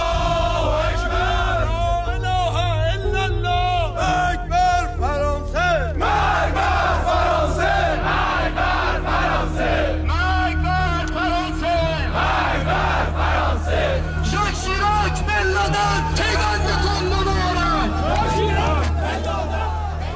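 Around a hundred Iranian regime militiamen at a protest against France shout and chant together, a loud, continuous crowd roar with rhythmic chanted bursts over a steady low rumble.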